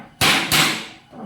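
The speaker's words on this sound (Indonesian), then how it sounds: "memakai besi untuk melubanginya" An iron rod punching holes into a metal biochar kiln for burning rice husks: two sharp, loud metallic strikes in close succession, each with a short ringing decay, close by.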